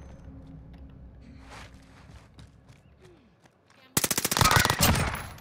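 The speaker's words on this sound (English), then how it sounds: "Under fire here." Rapid automatic gunfire in the video game Warzone bursts in loudly after a quiet stretch of faint background noise and footsteps, a dense string of close shots that continues to the end.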